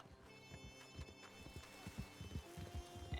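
Horses trample and gallop in the video game RedM, a fast irregular run of hoof clip-clops under a thin steady game backdrop, fairly quiet and without talk.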